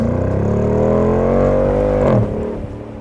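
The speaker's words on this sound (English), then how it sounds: "More than likely, however, you'll hear the SRT coming first." A 2018 Dodge Durango SRT with 475 horsepower revs hard, its engine note climbing steadily in a loud, sustained rise before dropping away and settling near the end.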